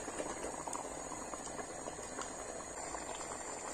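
A pot of minced-meat meatballs and vegetables simmers close by, a steady, soft bubbling and popping that continues evenly throughout with no talk.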